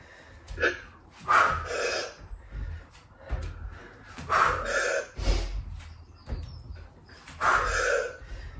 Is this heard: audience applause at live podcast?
no